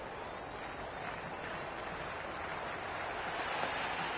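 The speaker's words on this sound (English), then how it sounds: "The spectators are absolutely buzzing right now." Crowd noise from a cricket video game: a steady, dense wash of cheering and buzzing spectators, holding at an even level throughout with no clear breaks.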